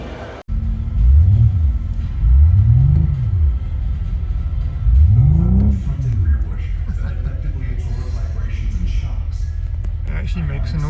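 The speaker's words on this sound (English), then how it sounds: "It actually makes a noise for an electric car." An electric car drives at the Goodwood Festival of Speed with a low electric hum that rises and falls in pitch in repeated sweeps, steady and fairly loud throughout.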